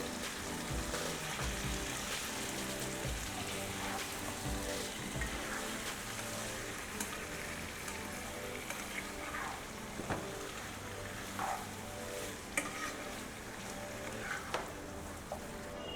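Chicken pieces fry with salt in a pan for a Telangana-style chicken fry, giving a steady, dense sizzle that crackles throughout, fairly close and even in level.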